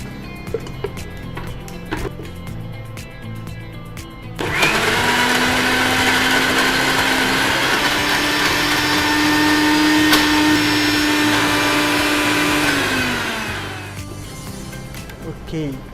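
A kitchen mixer grinder blends dates without water, a harsh steady motor whine that starts abruptly, runs loud for about nine seconds and winds down, with faint clatter and room noise before and after.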